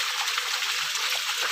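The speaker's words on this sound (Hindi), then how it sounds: "ये देखो रास्ते में इतना पानी आ रहा है।" Rainwater runs along a path in a steady, close, broadband rush with a continuous splashy trickle and no voices.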